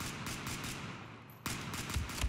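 Gunfire from a Compact 45 pistol in the shooter game Battlefield 4, heard as a run of sharp repeated shots over a busy, steady game background, with a louder burst near the end.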